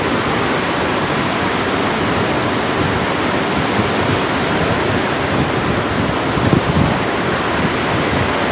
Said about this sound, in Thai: ขึ้นทะเลก็แรงมากเลยพี่น้องวันนี้ ลมทะเลแรงมากเลยครับ